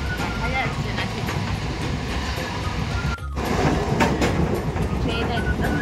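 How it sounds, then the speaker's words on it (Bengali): A nearly empty local passenger train heading to Naihati on a foggy day rumbles steadily along the rails with a continuous loud clatter and wheel noise, and voices can be heard inside the carriage. "ট্রেনে উঠে পড়েছি, নৈহাটিতে নেবে।"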